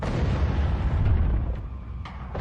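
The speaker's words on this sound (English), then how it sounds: "it exploded under pressure, scattering numerous burning fragments around" A downed TOS-1 Buratino heavy flamethrower vehicle detonates with a deep, rumbling blast that rolls on for a moment and fades. Softer pops follow, heard from a distance.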